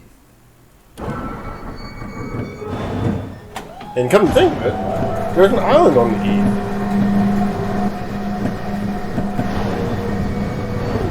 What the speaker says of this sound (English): You get the exhaust sound, so that means we're to the east.